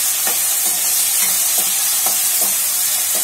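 Cut potatoes and curry leaves fry in hot oil in a pan for sabudana khichdi, a loud steady sizzle with a spatula scraping and stirring at a regular rhythm, close up and alone.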